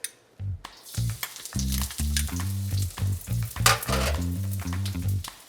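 Minced garlic sizzles in a hot pan for chili crisp beef lo mein, a steady crackling fry laid over a droning tonal hum that swells and pulses throughout.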